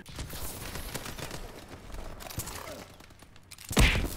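Dual-wielded submachine guns firing in the shooter video game Call of Duty: Advanced Warfare, a fast rattling burst of gunfire running under and between brief speech, ending in a louder sharp blast.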